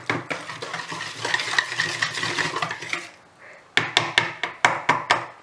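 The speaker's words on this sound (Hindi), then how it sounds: "और इन सभी चीज़ों को बहुत अच्छे से मिक्स कर लेंगे।" Eggless semolina chocolate cake batter is stirred in a bowl, making close, continuous scraping and swishing for about three seconds. After a brief pause, a run of sharp, clinking taps follows.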